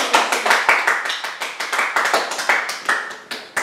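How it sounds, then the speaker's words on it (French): A few people clap briskly at home while playing the Nintendo Land Captain Falcon race game, a close, sharp run of distinct hand claps in quick uneven rhythm, loud and clear with no talk over it. "applaudissez-moi bien fort"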